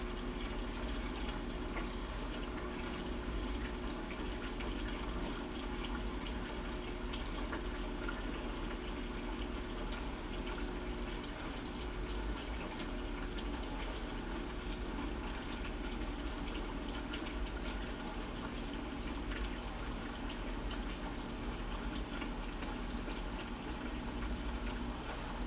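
Waste water drains steadily from the top of an aquarium protein skimmer, a continuous hissing, trickling wash of liquid that stays even and close for the whole stretch, with no voices.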